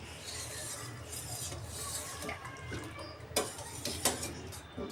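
Essence being stirred into milk sherbet, a utensil scraping and clinking against the container in steady rasping strokes, close and fairly quiet, with a few sharper taps near the end.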